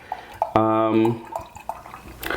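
Dark, nearly black liquid is poured into a glass, giving a short gurgling, bubbling tone with faint drips around it. Quiet room sound surrounds the pour.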